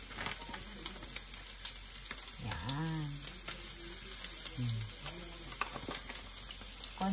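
A pan of sauce for macaroni gratin sizzling softly as flour is added, a faint steady bubbling hiss with scattered small ticks, while a voice speaks briefly in the middle.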